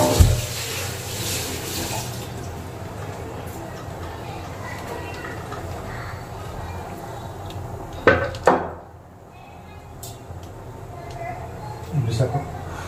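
Water is poured into curd for a South Indian curd bajji in a home kitchen: a splashing, running pour near the start, then a brief sharp burst of water around the middle, set against steady room noise and a faint voice.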